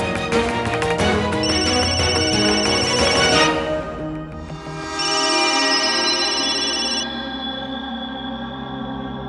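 A telephone rings with an electronic ringtone melody over dramatic background music in a Telugu TV serial, loud and continuous, pausing briefly before ringing again.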